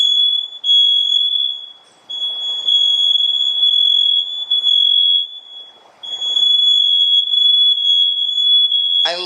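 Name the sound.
smoke alarm going off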